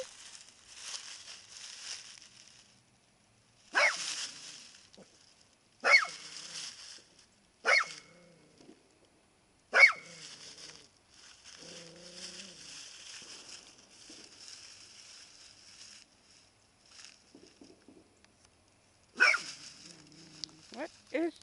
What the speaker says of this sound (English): What are you barking at, honey?